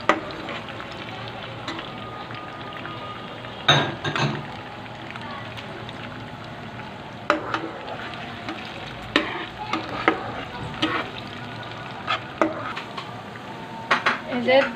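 Garlic and green chilies sizzle in a pan while a utensil stirs and scrapes against the metal in scattered clanks. A voice talks over the steady frying hiss.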